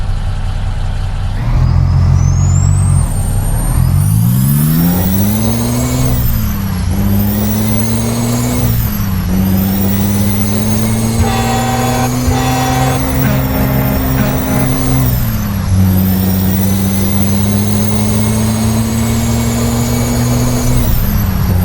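A Kenworth W900A truck engine in a video game roars at full throttle, pitch climbing and dropping with gear shifts, steady and close throughout with no talking.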